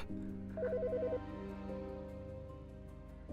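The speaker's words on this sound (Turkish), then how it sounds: "Telefon çalıyor." Telephone rings in the video game Autopsy Simulator, a short trilling electronic ring burst over a steady low ambient hum, then the hum continues alone.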